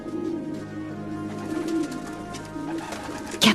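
Pigeons coo in soft, repeated low throaty calls, a steady murmuring flock close by, with a brief louder burst near the end.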